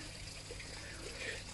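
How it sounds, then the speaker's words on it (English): Tap water trickling into a fish pond, a faint continuous dribble and splash held at low level throughout, with no talking over it. "So I'm going to lower that right down now to trickle in, and put the fish in that water back"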